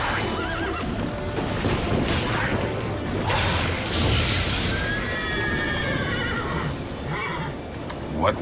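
Unicorns neighing and whinnying in The Witcher 3, with clip-clopping hooves and mechanical game sounds, loud and continuous with some whooshing effects.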